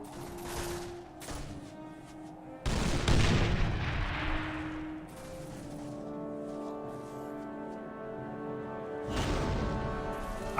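Artillery booms and rattling gunfire from a Warhammer: Mark of Chaos battle, several loud bursts with a big blast near three seconds and another near nine, over a sustained tonal game score.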